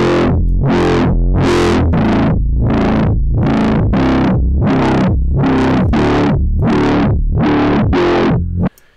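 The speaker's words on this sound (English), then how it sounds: "saturated loud sound and also a bit of grungy distortionness" A heavily distorted, saturated dubstep wobble bass synth pulses in a steady wobble, about a dozen loud gritty swells in a row before cutting off abruptly.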